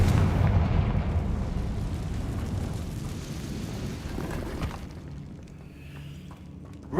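A blast from the Confringo spell in a video game erupts as a heavy, rumbling explosion that rolls on for several seconds and slowly fades, with a fresh burst at the very end.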